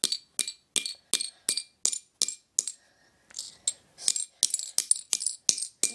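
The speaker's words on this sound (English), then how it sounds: "You're going to take your hammer." A hammer taps a metal bottle cap flat against a hard surface, bright clinking blows in a quick regular rhythm, close and clear, with a short gap before a faster run of strikes.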